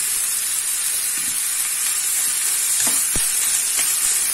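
American-style fried rice is stir-fried in butter, giving a continuous loud sizzle and hiss with a few scraping strokes of the spatula against the pan near the end.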